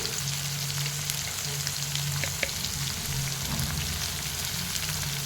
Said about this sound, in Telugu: ఉల్లిపాయలు కొంచెం వేగాలండి బాగా.